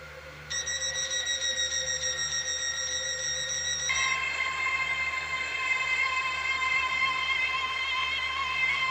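A train in the Roblox game Stepford County Railway gives off a steady electronic whine, with sustained layered tones that shift pitch partway through over a constant low rumble.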